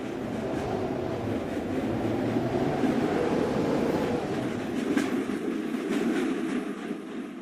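A train from an Indian bike-driving 3D game rumbles steadily past with a low, continuous rolling roar and faint clatter, sounding alone.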